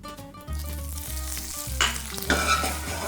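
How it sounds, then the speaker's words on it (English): Olive oil and a generous amount of butter sizzle in a pan for crispy salmon, a steady frying hiss that swells in two louder surges over low background music. "we're gonna start with just a little bit of olive oil and a bunch of butter"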